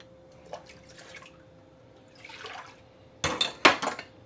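Tomatoes for a Sardinian dip are rinsed at a kitchen sink. Quiet dripping and faint clinks give way to a louder splash of running water near the end, and no one speaks.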